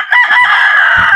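A native rooster crows once, close and loud, its strained call held for about a second with faint farmyard background.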